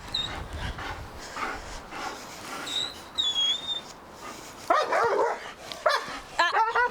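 A dog with failed training barks and yips in short, excited bursts with a few whimpers mixed in, close and fairly loud over background noise.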